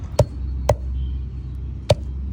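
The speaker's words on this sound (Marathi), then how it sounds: "आपण याला याच्यावर ठेचून घेऊ" Roasted bombil fish being crushed for thecha: three loud, dull pounding thuds, two close together and one after a pause, over a steady low background hum.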